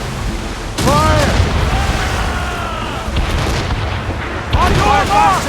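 Ship cannons firing in the video game Assassin's Creed Rogue: loud, deep booms ring out in separate volleys, with crew voices shouting commands in between.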